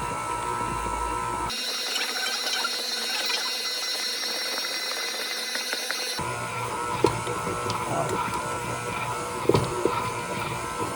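Stand mixer with a dough hook kneading Liège waffle dough, giving a steady mechanical whir and hum close by, its tone changing abruptly twice, with occasional light knocks near the end and no talk.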